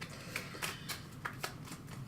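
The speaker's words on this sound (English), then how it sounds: "you have to shuffle this card into your supply deck" A card being shuffled into a supply deck during a Haven: Titan Command board game gives a series of soft, crisp card flicks and riffles, quiet and close, with no voices.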